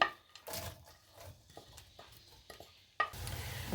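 Onions hiss and crackle in hot oil in short bursts, with stirring scrapes and soft clatter in between, fairly quiet and nearby.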